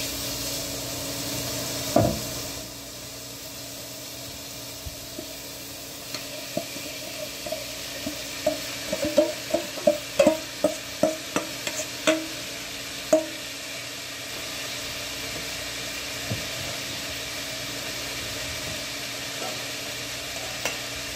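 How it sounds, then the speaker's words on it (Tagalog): Meat being stirred and sautéed in a pan for a corn soup, with a steady low sizzle and a burst of sharp, rhythmic scraping knocks from the utensil in the middle, close by. "Halu-haluin lang natin yung karne hanggang sa medyo maluto na siya tulad ng ganito"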